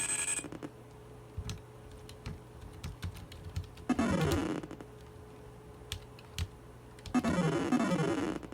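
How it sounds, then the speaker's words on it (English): Computer keyboard keys pressed rapidly while playing Robotron: 2084 on an Apple II emulated on a Raspberry Pi, with sharp clicking bursts and two dense clusters of fast typing against a quiet game hum. "Both my hands are on the keyboard, trying to do that box."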